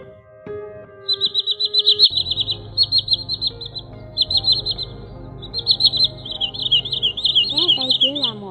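Repeated bursts of common greenshank calls, clear high whistled notes in rapid rhythmic series, sound over a low background hum and some tonal music at the start, with rising sweeping whistles toward the end.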